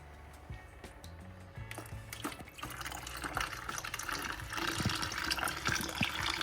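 Aquarium water being slowly mixed with water from a fish shop, soft close pouring and trickling that grows fuller and splashier toward the end, fairly quiet overall.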